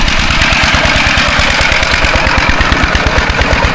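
A tractor engine runs close by in a rural Phu Thai village in Xaybouathong at evening, giving off a loud, steady, chugging rumble with rapid rhythmic knocking pulses and no pauses.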